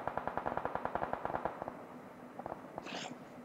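Automatic gunfire in the mobile shooter BGMI sounds as a quick, steady burst of rapid shots that thins into scattered single cracks, followed by a brief hiss. The shots are fairly quiet and seem distant.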